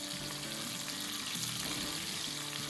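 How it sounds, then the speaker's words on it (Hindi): Green chilies frying in a pan while cooking a leftover dal paratha and aloo sabzi meal, a steady close sizzle with faint stirring scrapes and no talk. "तो भूनेंगे।"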